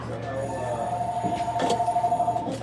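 A telephone rings with a rapid, buzzy electronic trill that pulses in quick bursts near the end, heard close under a faint bar-room background.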